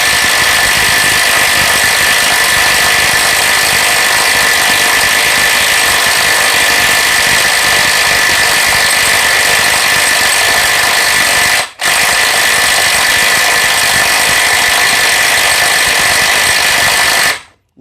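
A Vrill VIW2350 impact wrench tightens a bolt at 550 Nm, a loud, steady, continuous hammering whir running nearly the whole time with one brief cutout partway through before it stops at the end.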